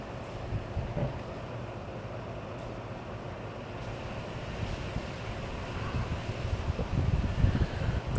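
Steady outdoor wind buffets the microphone in broad, rumbling gusts that build louder toward the end, with no voices present.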